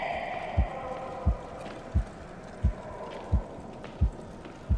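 A slow, even heartbeat from the video game Medusa's Labyrinth thuds clearly about seven times at a regular pace, over a low droning ambient hum.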